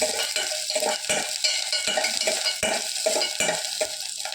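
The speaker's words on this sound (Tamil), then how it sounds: "சின்ன வெங்காயத்தை நீளமாக்க மாட்டி வச்சுருக்கேன் அதை போட்டு வதக்கிடும்" Sliced shallots sauté in a pan with a steady sizzle, broken by repeated rhythmic scrapes and taps of a stirring spoon against the metal, close and fairly loud.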